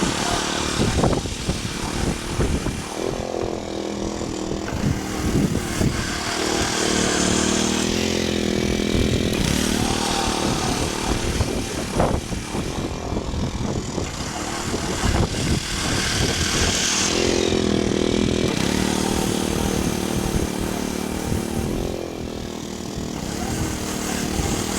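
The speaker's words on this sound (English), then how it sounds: "I just used that conditioner tool on the mower" A lawn mower fitted with a thatch conditioner tool runs close by on a grass lawn being turned into a putting green, with a loud, continuous engine roar and rhythmic surges as it moves back and forth.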